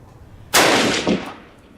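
A rifle fires a single loud, sharp shot of 1943 Winchester Victory Series .30-06 Springfield ammunition over a chronograph outdoors. The crack has a brief echo that decays over about a second.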